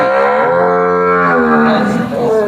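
A Sahiwal cow lows in one long, loud, close moo that rises and falls in pitch, heard on its own with no speech over it.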